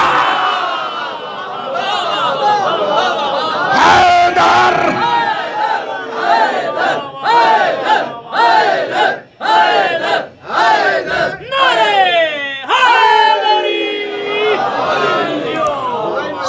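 Large crowd at a religious majlis gathering raising loud, rhythmic chanted slogans in unison, with repeated bursts of shouting that swell and break between calls, close and dense throughout.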